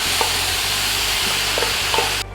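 Amaranth greens and ground coconut with black pepper and cumin are stirred in a hot pan for a South Indian keerai thoran. A close, steady sizzle comes with occasional spoon clicks and ends abruptly.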